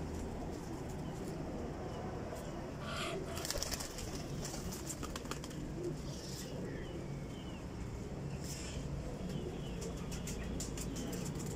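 Flying and breeder pigeons coo softly in a low, continuous murmur, with occasional faint chirps, moderately near and steady throughout.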